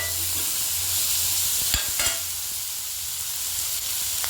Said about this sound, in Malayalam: ഉള്ളിയും കൂടെ ചേർത്ത് നമുക്ക് നന്നായിട്ട് വഴക്കാം